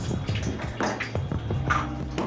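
Water running and splashing as bottles are filled, a continuous close gurgling stream with small surges and drips.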